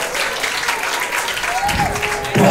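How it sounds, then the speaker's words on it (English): A crowd at a Muay Thai world title event applauds fighter Luis Castaneda after a championship round, sustained dense clapping with a brief whistle and a sudden louder burst of noise near the end. "let's give a big round of applause to Luis Weicho Castaneda"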